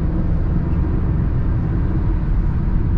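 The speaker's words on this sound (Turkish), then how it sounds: "5. viteste hafif bir yokuş çıkıyoruz. Bir araba çok güzel ivmeleniyor ya." Inside a Fiat Linea 1.3 Multijet 95 hp diesel sedan climbing a gentle hill in fifth gear, a steady low engine and road drone fills the cabin evenly and continuously, with no voices.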